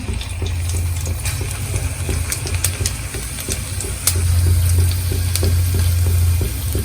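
Cumin seeds sizzle steadily in hot oil in a pan while cooking kadhi, a close, even crackling hiss with small pops throughout and a low hum underneath.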